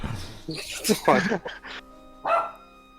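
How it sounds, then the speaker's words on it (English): A dog at home barks in a few short, sharp bursts close by, with talk from people playing a tabletop Dungeons & Dragons game around it. "That was my dog."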